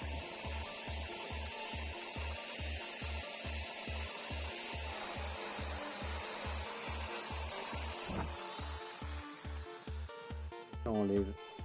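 Power drill spinning a brush attachment to strip chemically softened paint from a Kawasaki Z900RS swingarm, a steady close whirring scrub with a rhythmic pulse that eases off near the end into a few clanks and handling noises.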